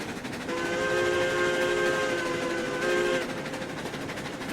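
Train rolling along in the RailRoads Online video game, a steady rumbling run with a sustained steam whistle sounding over it for several seconds, no speech.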